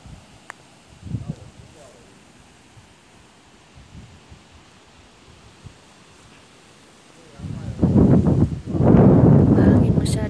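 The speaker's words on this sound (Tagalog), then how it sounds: "Mahangin masyado dito." Strong wind gusting across a hillside orange farm in Hsinchu, Taiwan, rumbling low against the microphone, mild at first then swelling into a loud, sustained blustery roar near the end.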